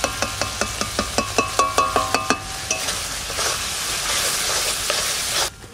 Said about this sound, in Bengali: যতক্ষণ না তেল ছাড়বে ততক্ষণ কষিয়ে নেবে